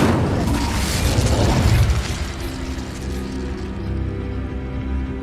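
A fire spell is cast in Hogwarts Legacy, a loud whooshing burst that swells and fades over a few seconds, with a low rumbling roar continuing beneath it.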